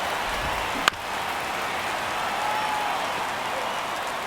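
Simulated baseball stadium crowd in a video game during a tense one-run ninth inning, a steady wash of crowd noise and applause with one sharp knock early on.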